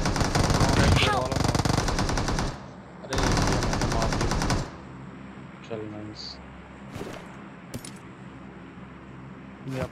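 Automatic gunfire in the mobile battle royale game BGMI sounds in two long, loud, rapid bursts, followed by scattered single shots and clinks, while players talk over the action.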